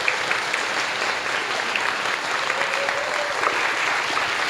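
A lecture audience claps steadily throughout, a dense, even wash of many hands at moderate distance with no break.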